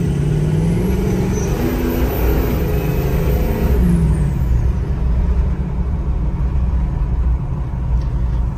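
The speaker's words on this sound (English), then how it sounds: "it downshifted, I think, two gears to get to where it wanted to be" A 2005 Ford F350 pickup with the 6.0 Powerstroke diesel rumbles steadily while driving, its engine note shifting partway through as the transmission drops two gears, with no talking.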